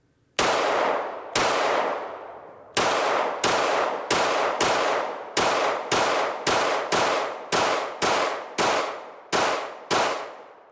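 Pistol shots from a Canik TTI and a ported CZ P-10c ring out one after another, sixteen sharp loud cracks with ringing decay, irregularly spaced, close by with no talk.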